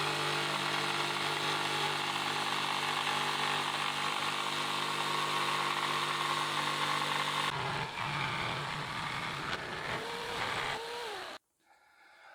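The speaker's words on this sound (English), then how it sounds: "So I've now chosen my smaller 1/2 inch router" A 1/2 inch router with a bearing-guided edging bit cuts wood along a template, a loud, steady high whine whose tone shifts as the cut progresses before it stops abruptly near the end.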